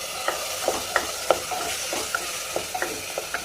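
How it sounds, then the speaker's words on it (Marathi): Tomato puree, onion and ginger-garlic paste cooking in a pan for dhaba-style chole, with steady sizzling under repeated stirring scrapes and light spoon taps at an irregular pace, close by with no talk. "आता यामध्ये आपण टोमॅटोची प्युरी करून घेतलेली आहे ती पण घालून घेऊयात"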